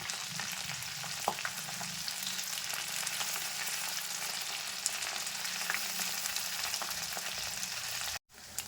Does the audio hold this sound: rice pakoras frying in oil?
yes